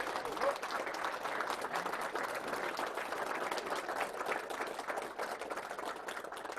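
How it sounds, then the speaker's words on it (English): A veterans' expo audience claps together, a sustained, even round of applause from a crowd that holds steady for several seconds. "Give yourself a round of applause."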